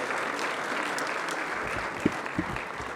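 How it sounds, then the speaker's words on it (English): A round of applause from the audience at an African Leadership Forum panel discussion in Kigali, steady crowd clapping throughout, with a couple of brief low thumps or voices late in the clip. "Can we give a big round of applause to everybody who has shared and spoken?"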